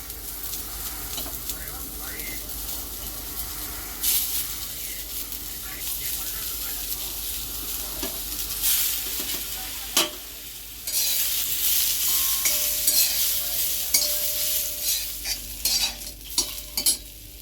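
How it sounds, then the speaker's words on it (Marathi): Onion roasting in a pan on a gas stove over low flame: steady close sizzling with stirring scrapes throughout, growing busier with sharp clatters toward the end, no talk. "आता कांदा भाजूया"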